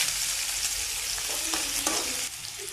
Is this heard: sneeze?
no